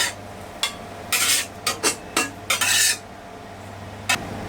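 Metal spatula scraping and scooping freshly scrambled eggs from a hot wok, a series of short bright scrapes and clinks in an irregular rhythm over a faint sizzle, close and fairly loud.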